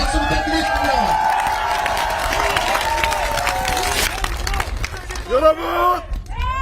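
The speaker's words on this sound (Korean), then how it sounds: "박수 부탁드리겠습니다" A crowd at an outdoor campaign rally in Gunsan, North Jetbuk, claps and cheers for a candidate, steady applause with shouts and a voice over a loudspeaker, tapering into scattered claps and chatter.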